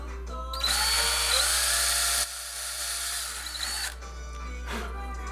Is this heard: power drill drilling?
yes